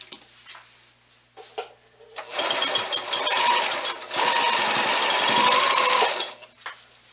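A sewing machine stitches a binding strip for a quilt in two bursts, a short start then a sustained run of rapid, even stitching up close, ending abruptly with faint handling noises around it.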